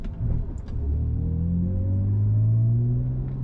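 A BMW E90 exhaust growls in a low, continuous rumble as the engine revs and pulls steadily upward, loud and close throughout with no talking.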